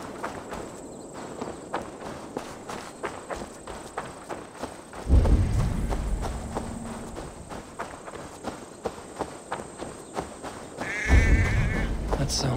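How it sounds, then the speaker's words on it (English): Sheep bleating in the open-world game Assassin's Creed Valhalla, faint calls mixed with steady footsteps and ambient game sound, with swells of louder noise. "That sounds like a sheep."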